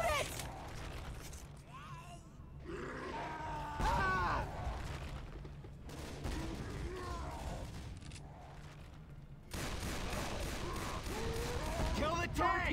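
Sustained automatic gunfire in the video game Left 4 Dead 2 rattles on in bursts throughout, growing denser and louder near the end, while players shout to each other over it.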